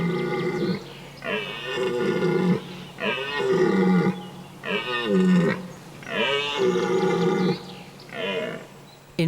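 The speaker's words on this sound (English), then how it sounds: "In full rut, belling or roaring loudly, stags challenge their opponents." Red deer stags in rut bellow in an autumn forest in the northern Vosges mountains, France, long deep roaring calls repeated in a slow series of about six bouts, loud and close with short pauses between.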